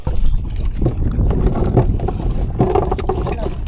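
A boat engine runs at sea on the Pacific, a rough continuous drone heavily buffeted by wind across the microphone, with people talking over it.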